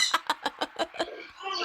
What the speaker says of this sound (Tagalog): damo sila mga manog.